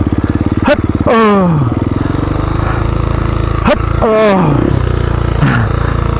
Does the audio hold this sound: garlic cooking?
no